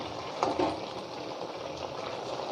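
A pot of leafy vegetables bubbling as it boils, a soft continuous simmering hiss with a couple of brief louder gurgles early on, fairly quiet and close.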